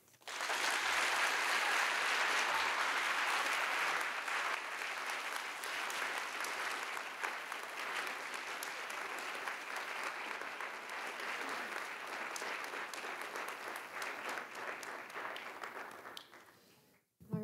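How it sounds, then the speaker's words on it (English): An audience applauds the speakers at a school writers' event, sustained clapping that starts loud and full, settles slightly, and carries on evenly for over fifteen seconds before stopping. "Let's give all three of our speakers one more round of applause."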